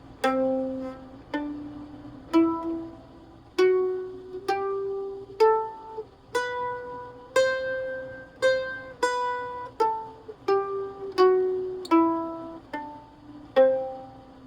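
Single plucked notes of a Lydian mode scale in G ring out one after another in a slow, steady stepwise run, each decaying before the next, clear and close with no talking.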